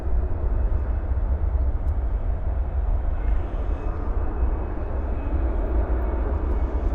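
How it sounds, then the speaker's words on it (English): An American Airlines A320 departs DFW airport at night with a steady, moderately distant engine roar that rumbles continuously without pause. "This one, an American Airlines A320 flight 1110 headed off to Bakersfield"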